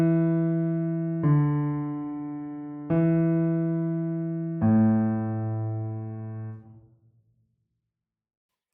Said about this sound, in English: if I would play it as a bass line, it would sound like this